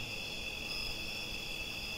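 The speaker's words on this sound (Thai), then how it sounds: "เสียงจิ้งหรีดเลไล" Steady, dense chirping of crickets fills a night scene outside a large wooden Thai house among trees in a Thai horror video game, an unbroken high trill at even loudness with no voices.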